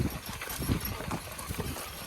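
Horses pulling a plow across a field, a soft, irregular clopping of hooves on soil with a steady outdoor rustle underneath, no voices.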